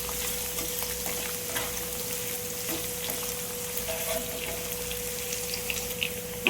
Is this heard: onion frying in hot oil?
yes